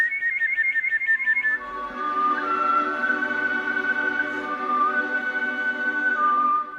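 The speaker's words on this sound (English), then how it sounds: "I make the sound with my tongue and the roof of my mouth." A steady, clear whistle made with the tongue against the roof of the mouth, trilling rapidly at first and then holding long sliding tones, alone with no talk.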